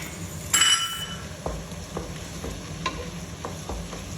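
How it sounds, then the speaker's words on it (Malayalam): Two eggs stirred into sautéed onions in a hot pan for kothu parotta: a soft frying sizzle under repeated spatula scrapes and light taps at a steady rhythm, with a brief clink near the start. "രണ്ട് മുട്ട ചേർത്ത് നമുക്ക് നന്നായിട്ട് ഇളക്കിയെടുക്കാം"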